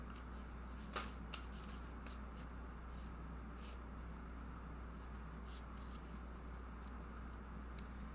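Tarot cards are shuffled in a quiet room, producing soft brushing riffles and a few sharper flicks, faint and close over a low steady hum with no talking.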